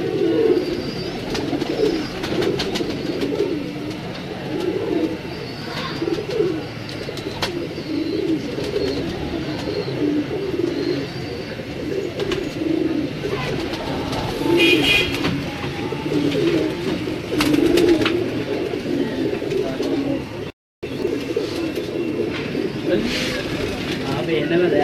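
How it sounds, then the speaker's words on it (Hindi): Pigeons on a Lahore rooftop coo in soft, repeated rolling calls throughout, close by and fairly steady, while someone talks over them. "ये जी 50 नंबर कबूतर आपकी स्क्रीन पर है तमाम दोस्तों की।"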